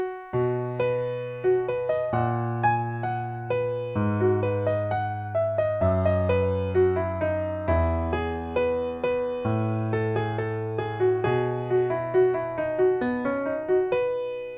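Solo piano plays a tune with simple left-hand bass notes beneath the melody, a steady, moderately paced line of clear notes and chords.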